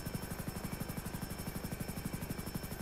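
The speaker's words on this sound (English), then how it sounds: "If you're helping for this helicopter, run code 2 so we can hear propellers." Helicopter in flight, a steady rapid thumping of rotor blades with an even rhythm over a constant high whine, loud and continuous throughout with no voices.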